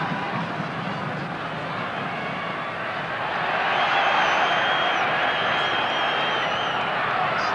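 Crowd at a Transvaal rugby match, a broad continuous roar of spectators that swells louder midway and holds steady, heard from a distance in a stadium.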